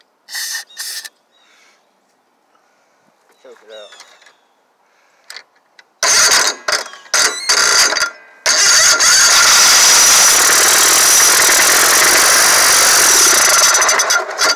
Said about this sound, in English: So it's got a carburetor problem because it'll run on choke